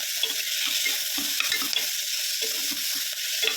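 Turmeric is stirred into tomato masala frying for mochai kulambu, with a continuous hiss of frying under repeated scraping and stirring strokes from a spoon against the pan.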